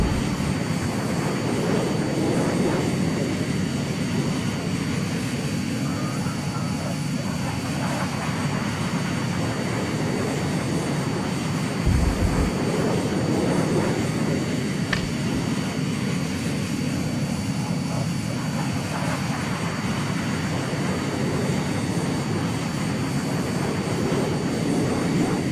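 An airplane engine drones steadily in flight, a constant low roar heard from inside the aircraft with no talking, broken only by a brief low thump midway.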